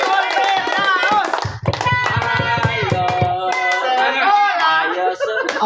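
A crowd at a children's quiz contest claps hands, quick sharp overlapping claps rising into a brief burst, mixed with lively voices speaking and calling out over it.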